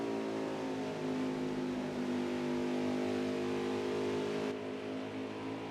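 A Chevy Silverado race truck engine in NASCAR Heat 4, a sustained loud droning roar with steady harmonic tones, holding revs then easing off near the end.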